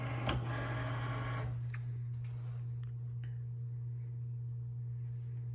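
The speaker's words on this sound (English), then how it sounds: "so now we're going to load our mat into the Cricut. So just place it in between, and then select this, and then feed it through" A Cricut Maker cutting machine draws a cutting mat through its rollers with a short whirring motor burst, then settles into a steady low electrical hum in a quiet room.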